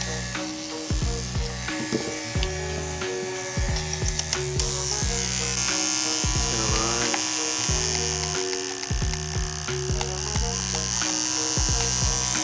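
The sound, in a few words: Andis Supra ZR hair clipper running after repair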